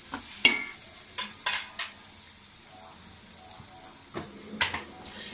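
Ginger garlic paste fries in a pan with a quiet steady sizzle, interrupted by a few clustered scrapes and clinks of a spoon stirring against the pan.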